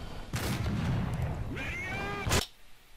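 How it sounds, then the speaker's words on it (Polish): A loud, booming tank cannon blast with a harsh, noisy tail, followed by a second sharp burst near the end, from a War Thunder battle, fired by a Ferdinand tank destroyer. "Strzał od Ferdka będzie"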